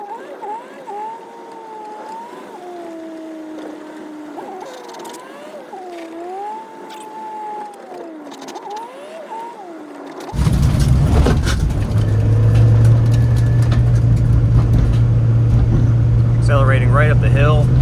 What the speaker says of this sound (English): Accelerating right up the hill, no problem.